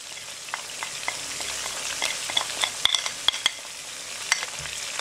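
Mutton sizzles and fries in a pan with achari pickle spices, a steady crackling hiss with scattered sharp pops and a few stirring scrapes, close and alone.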